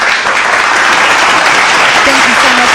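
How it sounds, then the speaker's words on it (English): A studio audience on a talk show claps steadily for an arriving guest, a dense, even wash of applause throughout, with a voice speaking briefly over it near the end. "Let's clap it up."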